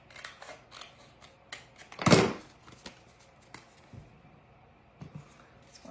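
Scissors cutting ribbon, a single sharp, close snip standing out among quiet, scattered handling rustles and small taps.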